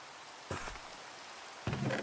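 Steady rain falling in Minecraft, played with the ATM10 modpack, a soft continuous hiss throughout, with two brief louder crackling bursts like distant thunder or nearby game noises.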